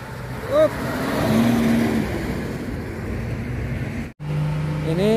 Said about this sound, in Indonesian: Ini truk busu tronton tadi yang mundur. Ini akan dicoba menanjak lagi.